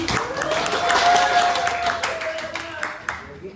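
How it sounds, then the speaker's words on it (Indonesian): Classroom audience applauding a student's question during an economics lesson, a steady patter of claps under a continuous tone and some overlapping voices. "Beri tepuk tangan."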